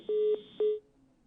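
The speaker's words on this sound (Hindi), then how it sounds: "डिस्कनेक्ट हो गया है फोन उनका" On a live Hindi TV news phone-in, a dropped caller's line gives off a series of steady electronic telephone beeps, two long tones and a shorter one, fairly loud and alone before the line goes quiet.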